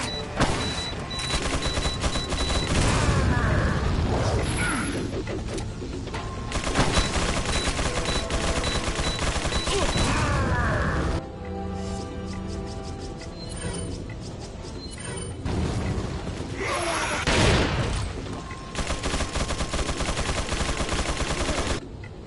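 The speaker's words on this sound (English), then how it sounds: "The chain gun toting Ganado JJ will become a problem." Sustained chain gun fire from a Ganado in Resident Evil 4 (2005), long loud bursts of rapid automatic shots with brief pauses and mechanical clatter between them.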